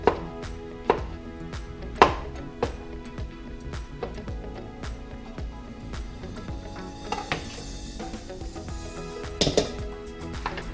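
Mango being cut with a knife on a board, a series of sharp irregular chops and taps, close by, with a faint clatter of dishes in between.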